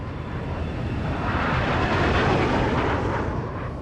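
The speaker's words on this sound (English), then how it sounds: "He calls up 2 F-16 fighters patrolling nearby." A loud, sustained jet roar of two F-16 fighter jets passing overhead, swelling slightly in the middle and easing off, with broad rushing noise and no voices.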